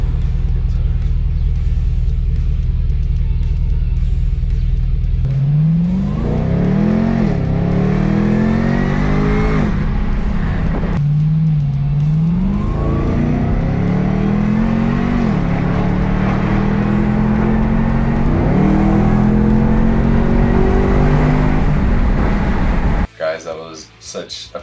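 A Chevrolet Camaro ZL1 engine with a Roto-Fab intake revs repeatedly as it accelerates through gears, rising and dropping in pitch, loud and close inside the car, with a steady low rumble.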